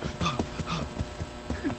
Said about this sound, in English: Howled.